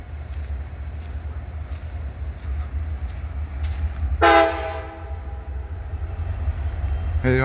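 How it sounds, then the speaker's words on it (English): A locomotive sounds one short, loud horn blast midway through, standing out over a constant low rumble from the idling train nearby. "He's honking at us saying hey."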